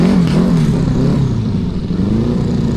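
A pulling tractor's engine roars loud and steady at an outdoor tractor pulling event, holding a low, slightly wavering rev throughout.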